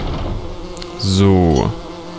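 A bee buzzes in the Lego The Hobbit video game, a loud droning whine that swells in close for about half a second, bends in pitch and then fades, with quieter game sounds around it.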